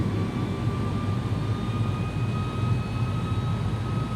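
Airbus A300 airliner engines droning steadily on approach in the X-Plane 11 flight simulator, a constant broadband roar with faint whining tones and no talking.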